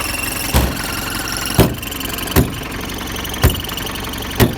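Mahindra jeep engine idling with a turbo whistle, a steady high whine over a running engine, punctuated by five regular heavy knocks or thumps roughly a second apart; close and alone, with no talk.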